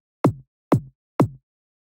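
A second kick drum track in a minimal deep tech production, shaped with EQ and a low-cut filter, plays three evenly spaced punchy hits about half a second apart, each with a short decaying tail.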